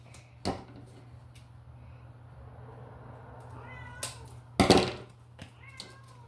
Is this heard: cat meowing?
yes